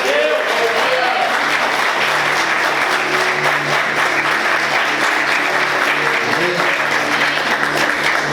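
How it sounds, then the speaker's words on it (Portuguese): Louder, sustained applause from a church congregation rolls on without a break, thick and close, with a voice speaking or calling out over the clapping throughout. "Aplauda mais forte"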